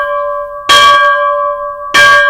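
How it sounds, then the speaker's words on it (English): A bell rings with a steady sustained tone, struck twice more sharply and louder, each strike bursting bright over the ringing hum. "this bell here, you know, I can demonstrate dynamics with it."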